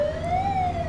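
An ambulance siren wails in a video game, a single rising and falling tone, loud and close, with no voices over it.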